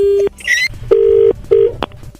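A landline handset clicks down, followed by a steady electronic tone in short repeated bursts and a final click, loud and close with no talking.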